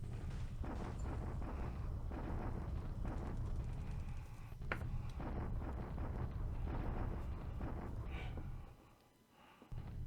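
Bombardment in a WWII strategy video game with Japan fighting the Allies in January 1942 gives a dense, continuous rumbling roar with scattered heavier thuds, then a brief dip near the end before it resumes.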